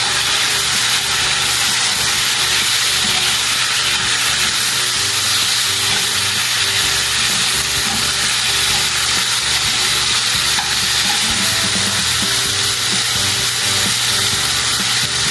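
Soy sauce hits a hot pan of mushrooms and sizzles with a loud, steady, broadband hiss that continues throughout.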